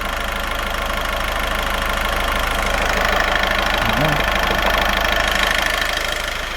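A diesel engine idling steadily during a DPF soak-and-rinse cleaning, a continuous low rumble with a faint knocking texture that holds at an even level throughout, with no talk over it.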